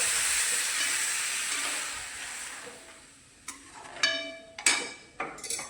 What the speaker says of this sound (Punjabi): ਇਹਦੇ ਵਿੱਚ ਆਪਾਂ ਹੁਣ ਡਬਲ ਪਾਣੀ ਪਾ ਦੇਣਾ